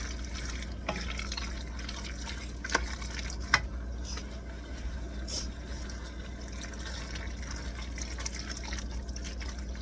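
Starchy pasta water is poured into a Philly cheese steak casserole, a steady close watery rush with a few small clinks and splashes, no talking.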